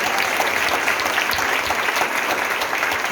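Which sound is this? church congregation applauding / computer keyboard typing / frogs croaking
church congregation applauding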